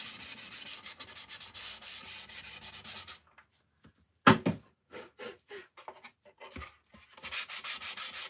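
Sandpaper rubbing a blue-painted wooden craft piece at close range, steady scratchy strokes for about three seconds, a brief gap with a knock and light handling noises, then rhythmic sanding strokes resume at the end.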